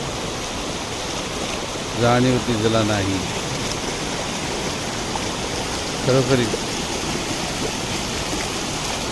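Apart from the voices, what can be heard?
babbling water of the Krishna river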